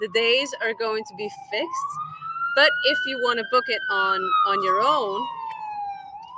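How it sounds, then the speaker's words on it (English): A police siren wails outside, a long rising and falling tone that carries clearly the whole time while a person keeps talking over it. "Sorry about the sirens."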